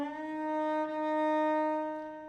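A cello plays each note twice within a single slurred bow stroke, shifting position mid-bow; sustained, steady bowed tones sound up close and alone, with a slight change partway through.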